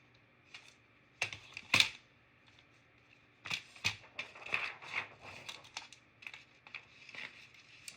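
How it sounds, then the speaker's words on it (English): Paper being trimmed with scissors or a cutter while decorating a Happy Planner spread, heard as a handful of sharp, close snips and crisp rustles with quiet gaps between them. "I'm just gonna cut a little bit of this off."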